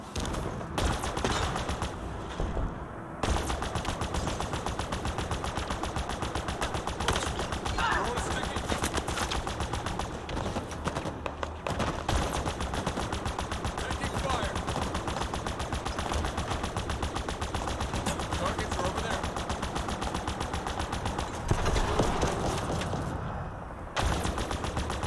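Sustained automatic gunfire in the video game Halo Infinite during a quickplay match, a dense continuous rattle of shots with a few brief gaps, loud and close throughout.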